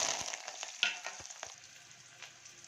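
Onion and curry leaves sizzle in hot oil in a clay pot for tempering, a soft, steady frying hiss with scattered small pops and no voices.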